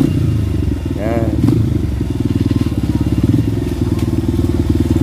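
Motorcycle ridden slowly through a narrow alley toward a river, its engine putting out a rapid, steady, close chugging with light clatter, while people talk briefly over it.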